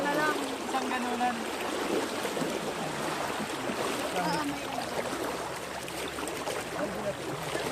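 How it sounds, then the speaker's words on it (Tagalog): A strong river current rushes at a crossing near Angeles, a dense, continuous wash of moving water with voices calling out over it. "malakas yung malakas yung agos"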